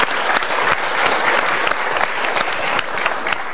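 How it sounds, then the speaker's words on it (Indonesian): Studio audience applause at a televised motivational talk show, a dense steady wash of many hands clapping close and loud for the whole stretch, with no voices over it. "Kita berikan tepuk tangan dulu."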